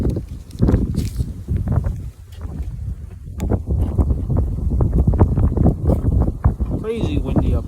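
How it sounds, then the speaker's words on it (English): Strong wind at a mountain lookout in Blue Knob State Park batters the microphone in loud, gusty roaring bursts, with rustling and handling noise close by. "Crazy windy up here."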